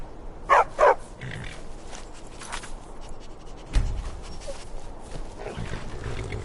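Two sharp barks from a trained war dog in Skyrim ring out close together near the start, followed by quieter ambient rustling and a low thump, with no talking.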